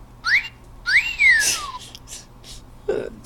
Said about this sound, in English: If you want a monkey that whistles at you, I have one.